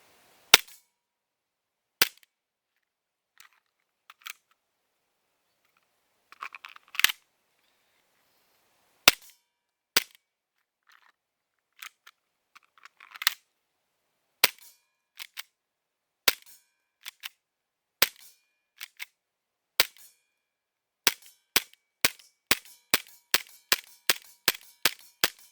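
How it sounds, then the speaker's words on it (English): Shots from a Cybergun FN Five-Seven airsoft pistol hitting a metal plate ring out as sharp, close cracks. They come slowly and unevenly at first, with faint clicks between them, then speed into a quick, steady string near the end. "So we'll just shoot the plate and see what happens."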